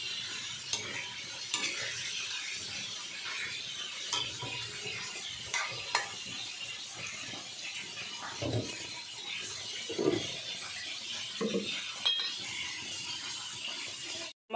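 Vegetables stir-fried in a pan give a steady close sizzle. Scraping and stirring clatters come through repeatedly, with a few brief clinks of a utensil against the pan.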